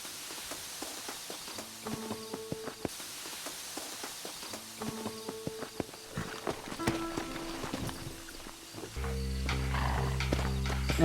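Horse hooves clip-clop at a walking pace amid Red Dead Redemption's ambient game sounds, with a steady low rumble joining in the final seconds.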